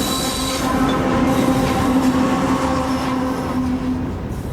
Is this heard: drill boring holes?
no